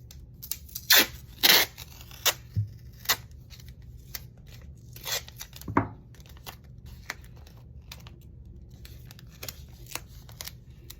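Strips of adhesive tape torn off and pressed onto the spine of an old book: a handful of sharp ripping and crinkling bursts close by, scattered among quieter rustles and handling noises, with no voice.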